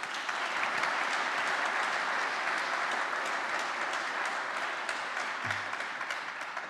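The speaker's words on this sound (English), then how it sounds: "so please give another round of applause to Roy." Sustained audience applause at a EuroPython 2023 conference talk on brute-force attacks against biometric databases, a dense, steady clapping wash lasting several seconds with no talk over it.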